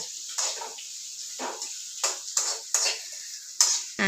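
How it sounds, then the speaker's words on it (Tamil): Onions sautéing in a pan until golden for a home-cooked broad bean stir-fry, a spatula making about eight close, scraping stir strokes at an uneven rhythm over a soft background hiss, with no talking. "அதை இப்போ கொஞ்சம் நல்லா பொன்னிறமாக வர்ற வரைக்கும் அப்படியேவும் வதக்கிட்டுருக்காங்க"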